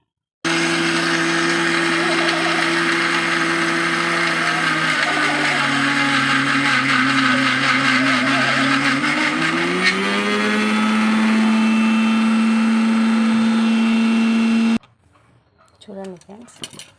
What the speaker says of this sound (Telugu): ఇప్పుడు మిక్సీ అయితే పట్టుకుందాం.